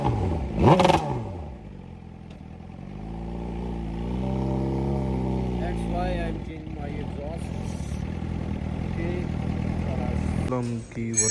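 A heavy motorcycle, a Suzuki Gixxer, starts with a sharp burst and then runs with a steady low engine rumble for several seconds, close and fairly loud, ending with a brief clatter.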